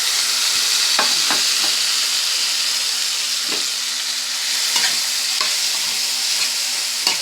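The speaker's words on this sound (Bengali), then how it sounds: "মশলাটাকে ভালো করে কষিয়ে নেব" Spice paste of ginger-garlic, grated onion and chopped tomato sautéed in a pan: a steady close sizzle broken by repeated scraping strokes of a stirring spoon, no talk.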